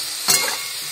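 Fish oil with chopped onion, tomato and turmeric in a pan, a steady sizzle carrying one brief, louder scraping stir stroke near the middle, close and with no talking.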